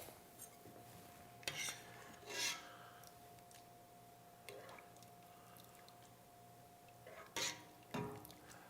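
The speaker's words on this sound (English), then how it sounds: "now we're gonna spoon this into a bowl" Leek and corn soup spooned into a bowl, with several brief soft scrapes and clinks of a spoon against the dish spread across a quiet room, a steady faint hum underneath.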